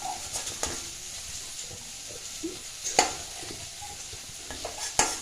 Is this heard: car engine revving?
no